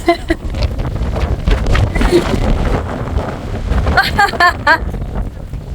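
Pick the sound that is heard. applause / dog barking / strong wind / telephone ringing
strong wind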